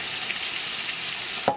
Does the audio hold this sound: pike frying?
yes